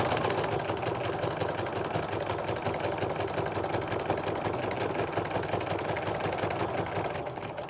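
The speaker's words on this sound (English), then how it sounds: "I'm just going to stitch real slow into that corner" A sewing machine stitches binding onto a quilt-as-you-go placemat at a 3.5 stitch length, running in a steady, rapid mechanical whir with a fine repeating needle rhythm, close up and uninterrupted until it slows slightly at the end.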